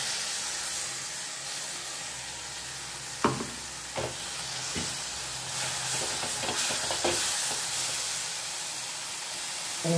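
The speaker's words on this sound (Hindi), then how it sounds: "ये हम टमाटर डालेंगे पिसा हुआ" Ground tomato goes into hot masala in a pan for a black chickpea and potato curry, setting off a steady close sizzle and hiss with a few sharp stirring clatters, no voices.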